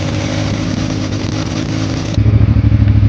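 A motorcycle engine idles steadily, then revs up louder and rougher partway through, close by with no talk.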